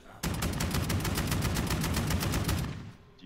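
Striker shotgun firing in Call of Duty custom zombies, a loud rapid burst of repeated blasts that runs nearly three seconds before cutting off.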